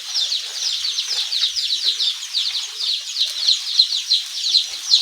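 Hundreds of baby chicks in a brooder cheep constantly in a dense, overlapping chorus of high peeping, close and steady throughout.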